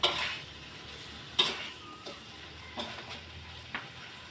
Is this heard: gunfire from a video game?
no